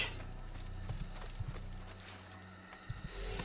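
Clip-clopping horse hooves from the Assassin's Creed video game, a steady galloping rhythm of hoofbeats over a continuous game soundscape, with a brief snort or whinny-like accent.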